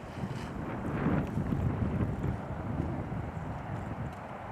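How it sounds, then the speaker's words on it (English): Strong, gusting wind buffets the microphone on a disc golf course, making a low, rumbling roar that swells and eases over several seconds with no voices. "It is difficult to play these bomber holes with the wind being as whipping as it is."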